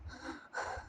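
A voice imitates panting, giving two short, heavy breathy gasps close to the mic.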